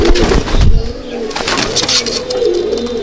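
Malbai (Panjabi) pigeons in a loft coo close by, with a few rolling calls rising over some handling noise and wing rustle, and no voices.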